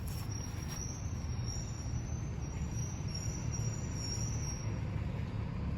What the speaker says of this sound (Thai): รถบัสโรงเรียนมาพอดีเลย เสียงจะดังหน่อยนะ